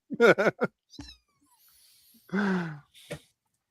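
A kitten gives a short, close meow, surrounded by a few brief human sounds and quiet pauses.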